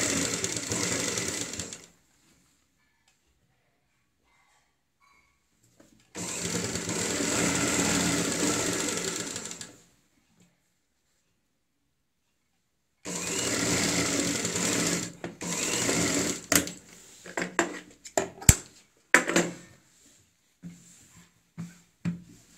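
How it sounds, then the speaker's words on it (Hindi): A sewing machine stitches piping onto a kurti neckline in three bursts: two steady runs separated by silence, then a longer run that breaks into short stop-start stitches and clicks. "इस तरीके से रखेंगे पाइपिंग और ऐसे सिलाई लगाएंगे।"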